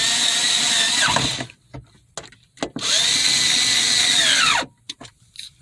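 A power drill drives screws to fasten a replacement sun visor in a 2015 Subaru Forester: two sustained whirring bursts, each winding down in pitch, separated by brief clicks and handling noise, close up.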